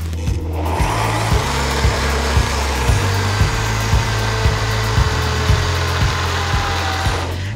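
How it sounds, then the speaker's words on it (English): A countertop blender whirs steadily as it purées hummus with lemon juice, tahini and water, its loud motor drone pulsing with a regular rhythmic chop throughout. "Let's blend it."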